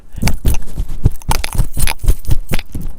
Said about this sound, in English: Before we start, I'm gonna take off my chunky statement jewelry